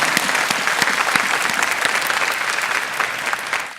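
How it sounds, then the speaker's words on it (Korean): A church congregation applauding during a sermon, a sustained, even roar of many hands clapping for several seconds before tapering slightly at the end, with no talk over it. "우리 한번 하나님께 영광의 박수를 좀 올려드립니다."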